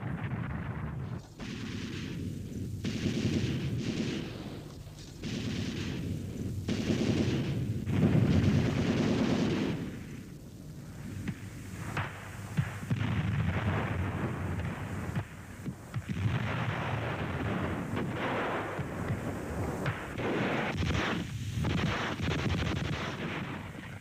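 WW2 German paratroopers fire Panzerfaust and Panzerschreck anti-tank weapons in combat, producing a long series of irregular blasts and cracks, some close and heavy, others lighter, with no talking.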